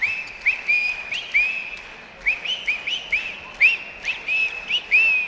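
A whistle blown in repeated short bursts to stir the crowd at a boys' varsity high school basketball game in a gym, several chirps spread across a few seconds over a steady background murmur.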